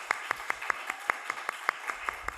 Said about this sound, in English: Let's give one more round of applause to Aiden Donetti.